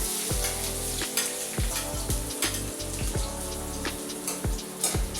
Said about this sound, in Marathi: थोडी मोहरी पण टाका आणि त्यानंतर आपण आता कांदा घालूया